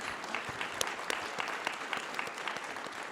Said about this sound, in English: I don't know why I'm clapping for myself.